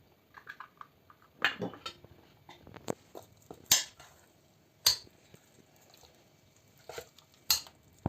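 Churro dough being stirred after eggs go in one at a time, with a utensil scraping and knocking against a bowl in scattered, irregular clinks and soft wet mixing sounds, close and fairly quiet.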